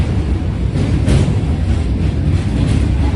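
A passenger train runs on rails near the Barakar River into Jharkhand, a loud continuous rumble with a heavy low drone and faint rhythmic clatter heard from inside.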